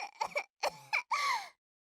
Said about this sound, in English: she started coughing.